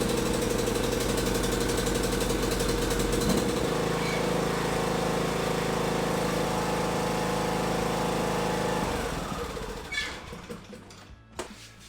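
A John Deere D105 lawn tractor engine runs loud and close with a steady droning hum for about nine seconds, then drops away as it winds down, leaving faint clatter.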